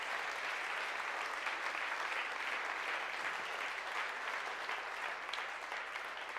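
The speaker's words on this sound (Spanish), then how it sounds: "Dale un aplauso si has comprendido esto." A church congregation applauds during a resurrection sermon, a sustained, even wash of clapping from many hands filling the room without pause.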